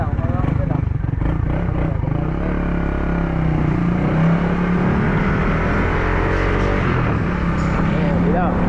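A fuel-injected motorcycle engine on a test ride, with a steady loud running drone and some clatter throughout, while voices talk over it.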